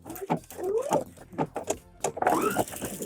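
Sewing machine stitching a zipper on a skirt pocket, running in short bursts of rapid whirring with brief pauses between, close and clear with no talking.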